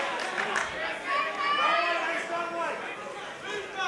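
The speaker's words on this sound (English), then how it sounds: "The crowd calling for Korobo to stay up on his toes." Spectators at a professional boxing match call out and chatter during the final round, a busy wash of overlapping voices at moderate level with a commentator-like voice standing out.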